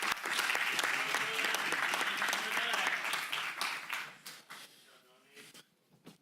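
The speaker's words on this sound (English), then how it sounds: "One more round of applause for this amazing group." An audience at a county board of supervisors meeting applauds for several seconds, a dense close clatter of many hands that thins out and fades to a few scattered claps.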